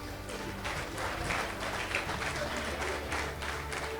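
An audience at a unit luncheon applauds an honoree with steady, dense clapping that holds evenly throughout, heard from within the room with a faint background murmur.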